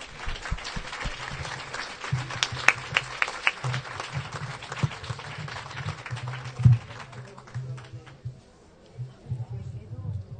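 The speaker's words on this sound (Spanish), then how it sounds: "Carmen, continúa Carmen, un aplauso para ella" An audience at a nightly street protest and poetry gathering claps in a scattered, moderately faint burst of applause, with voices talking over and between the claps.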